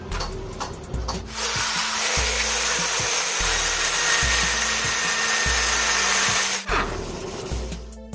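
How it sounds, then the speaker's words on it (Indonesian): Steady abrasive rubbing and scraping of a metal crank gear pinion shaft being hand-filed and sanded with sandpaper, continuous for several seconds with rhythmic low thumps beneath, close to the microphone. "Jadi kita gunakan kikir perlahan-lahan, lalu kita haluskan dengan amplas ya"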